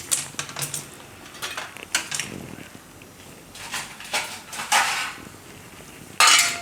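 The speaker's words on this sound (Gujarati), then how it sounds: "તો આને આપણે છાલ કાઢી અને ટુકડા કરી લેવું." A knife peels and chops bottle gourd on a board in a home kitchen, with irregular sharp taps and scraping clicks, closing with a louder clatter.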